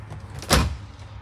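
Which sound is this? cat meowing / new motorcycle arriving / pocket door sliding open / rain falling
pocket door sliding open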